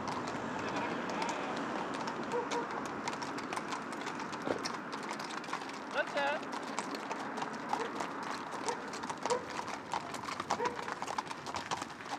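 Horses' hooves clip-clopping on a road during a religious procession in Kester, a steady stream of overlapping hoofbeats from a group of horses passing nearby, with faint voices and birds in the background.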